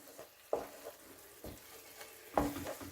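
A Turkish breakfast mixture fries quietly in a pan, with a soft sizzle under a few distinct scraping strokes of stirring at irregular intervals.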